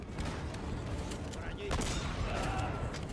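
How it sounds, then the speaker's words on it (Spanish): Gunfire in the video game Uncharted: Drake's Fortune, a burst of sharp shots over a constant game background, with a louder blast near the middle of the clip. "Ahora, tres tiros de escopeta,"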